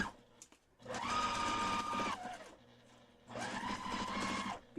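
A sewing machine stitching Christmas quilt pieces runs in two steady bursts, each about a second or more long, with a whirring motor and rapid needle clatter close by, separated by a short pause.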